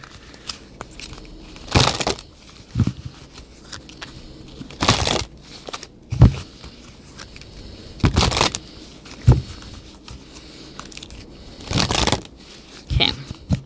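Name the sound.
shuffling an oracle card deck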